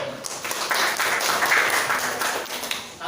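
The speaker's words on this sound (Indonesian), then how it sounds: "Oke, tepuk tangan buat teman." A class of students in an Indonesian school lesson claps for a classmate: a dense, steady patter of many hands that fills about three seconds at a moderate, even level, with no clear talking over it.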